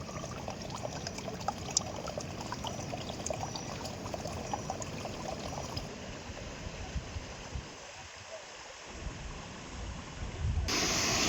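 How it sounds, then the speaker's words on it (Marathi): A steady rush of falling water from a small waterfall on the monsoon trek to Rangana Fort, continuous and fairly close, with no voices. "छोटूसा धबधबा"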